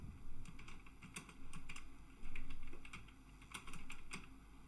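Steady typing on a computer keyboard while text is entered in a word processor, quick irregular key clicks in short bursts, close and fairly quiet against a faint background hum.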